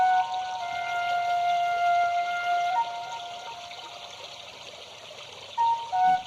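Water flowing and trickling along a riverbank as a sound-drama effect, a steady running stream with thin tonal ringing layered over it and no voices.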